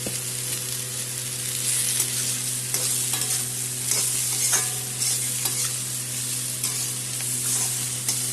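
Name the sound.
vegetables frying with ginger, green chilli and onion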